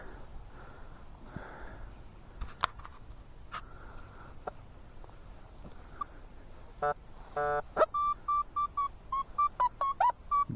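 A metal detector sweeping a home vegetable garden gives off a steady, thin electronic beeping: a rapid buzzy burst, then a run of short, evenly spaced high tones near the end, over faint rustling and scraping.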